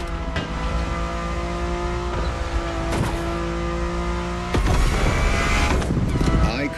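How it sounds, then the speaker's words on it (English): A Ferrari engine in the racing game The Crew Motorfest holds a steady, loud, close drone and then surges in a louder rev near the end. "And the car's voice sounds even better from inside."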